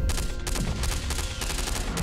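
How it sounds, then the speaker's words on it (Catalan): A volley of gunshots fired into the air in a wartime scene: rapid, loud, overlapping cracks and bursts that run continuously through the clip without pause. "uns trets a l'aire com a fi de treva"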